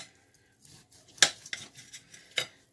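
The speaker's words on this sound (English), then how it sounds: "I'm just going to get it all sliced here so I can get it served." Cooked corned beef brisket being sliced on a board, a few sharp knife-and-plate clinks at irregular intervals with soft scraping between, close and fairly quiet, no talk.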